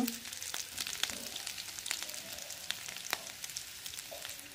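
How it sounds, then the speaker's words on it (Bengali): Ginger-garlic paste and turmeric frying in oil with onion paste for egg biryani, a soft steady sizzle broken by light scraping clicks of stirring, close by with no talk. "ওর মধ্যে আদা রসুন বাটা দেব, আবারও নাড়বো।"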